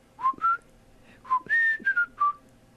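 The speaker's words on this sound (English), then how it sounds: "you look like you really had to put a lot of effort into doing that whistle" A person whistles a short tune in close, clear phrases, with several bright sliding notes in quick bursts separated by brief pauses.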